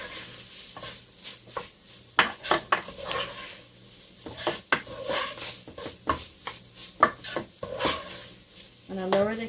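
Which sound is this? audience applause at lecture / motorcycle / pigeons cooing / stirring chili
stirring chili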